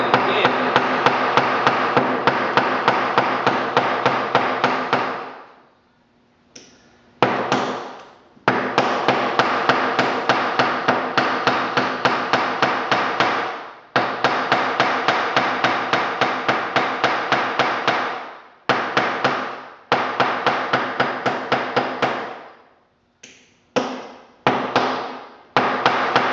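Rivet hammered over on an anvil, a fast steady run of sharp metallic blows in long bursts broken by brief pauses, close and loud.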